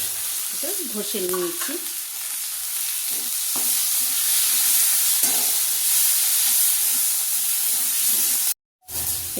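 Browned onion with cumin powder, red chilli powder, turmeric and tomato frying in hot oil, a steady close sizzle and hiss with spoon stirring and scraping, a short spoken phrase near the start, cutting off briefly near the end.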